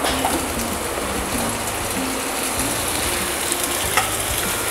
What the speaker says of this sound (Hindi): और अब इसमें हम डालेंगे ये कटे हुए आलू।